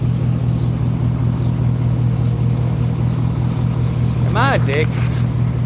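Steady low rumble of road traffic with idling and passing cars, heard from a bicycle stuck in traffic near a pier, with someone talking over it throughout.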